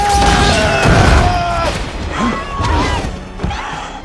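A blasting-curse explosion from a Harry Potter film scene: a loud, close boom and crash with rumbling debris, followed by further thuds and a sharp whoosh over a few seconds.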